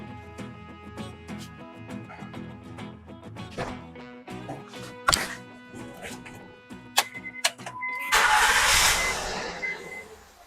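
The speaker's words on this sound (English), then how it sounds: "now it's time to start this engine up and see." Clicks and mechanical noise build into a Honda Crosstour's engine cranking and catching, ending in a loud rush as it fires up and runs close by.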